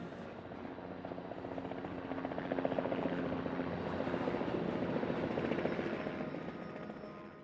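Helicopter flying over a city, its rotor thudding steadily overhead, swelling louder toward the middle and holding a broad, continuous roar amid urban background noise.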